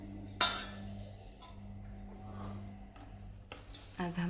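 A spoon clinks against a plate while sheera, a semolina pudding, is served: one sharp clink early, then soft scraping and a final small clatter over a steady low hum, all quiet.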